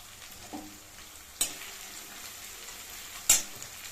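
Asafoetida dropped into hot oil, a quiet steady sizzle with two sharp bursts of spitting crackle and a light utensil tap.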